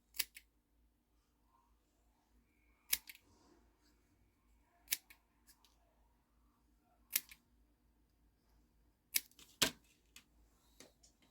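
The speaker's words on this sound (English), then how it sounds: "I'm just going to snip these." Scissors snipping quilled paper scrolls, a handful of crisp, isolated snips spaced a couple of seconds apart against near silence, close and quiet.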